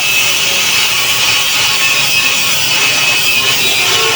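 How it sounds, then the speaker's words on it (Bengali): Loud continuous grinding and scraping while a bushing is tight-fitted into a motorcycle rear wheel assembly, a steady harsh metallic tool noise holding for several seconds without pause or voices. "এখন আমি টাইট ফিটিং করে দেখাবো আপনাদেরকে বুশটা"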